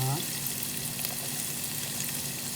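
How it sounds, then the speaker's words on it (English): Garlic and onions sauteing in a pan for Filipino tinolang manok, a steady close sizzle with light stirring throughout, no talking. "I love the aroma of the sauteing of the garlic with onions"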